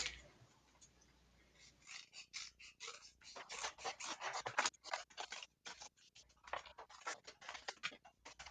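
Scissors snip through cardboard in quick, irregular bursts of crisp cuts, close and fairly quiet, while shapes are cut out slowly along a line. No one talks.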